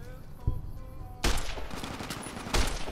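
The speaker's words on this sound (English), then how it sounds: "You have a submachine gun." Submachine gun fire in Fallout New Vegas: three separate short bursts of rapid shots crack out about a second apart, each loud and close over a low background hum.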